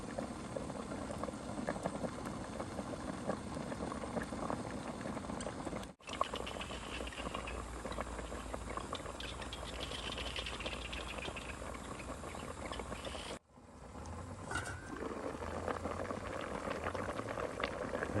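A pot of water at a rolling boil bubbles and patters steadily close by, with two brief cuts in the sound.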